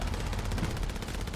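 A short, dense burst of rapid gunfire from the Call of Duty Warzone video game in Verdansk, loud and continuous for about a second with no speech.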